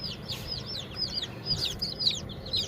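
Chicks peep and chirp rapidly in a busy chorus, with soft clucking from chickens underneath, close by.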